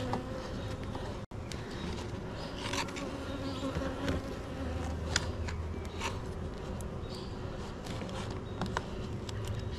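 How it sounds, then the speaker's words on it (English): Honey bees buzz around an open beehive during an inspection, a continuous close drone with a brief dropout early on and occasional clicks; no talk. "Moderate amount of bees up here, but not a lot."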